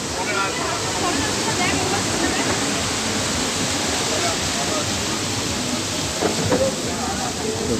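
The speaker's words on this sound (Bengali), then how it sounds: "এইখান থেকে ঢেউগুলো আসছে।" Sea waves crash onto the shore at Digha in a dense, continuous roar of surf, loud and close, with a voice faintly heard beneath.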